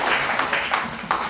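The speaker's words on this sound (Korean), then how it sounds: "강사님을 큰 박수로 모시겠습니다" Audience applause welcoming a lecturer to a talk on property and everyday taxes, brief and fairly dense clapping from a seated crowd with faint surges.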